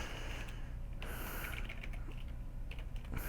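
Shift and arrow keys tapped on a computer keyboard during sprite animation work: a steady run of quick, close clicks with a few sharper presses, no talking.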